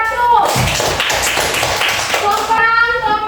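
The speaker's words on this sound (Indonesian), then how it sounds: "Tepuk tangan untuk kelompok 1." A short burst of applause from a primary school class, dense claps filling most of the moment, with children's voices mixed in and chatter at the edges.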